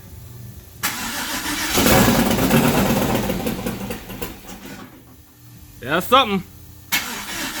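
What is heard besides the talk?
turbo LS engine of a Cadillac Fleetwood cranking and starting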